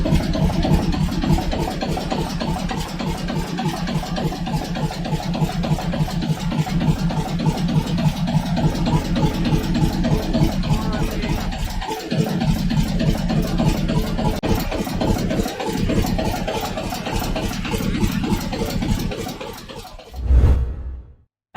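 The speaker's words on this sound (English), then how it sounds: "this rare Gardner one-cylinder L2, a diesel engine from the 1920s Britain, starts up with a rhythmic thud" A restored 1920s British Gardner L2 single-cylinder diesel engine runs steadily with a close, loud, rhythmic thudding beat for about twenty seconds, then stops abruptly with a final knock.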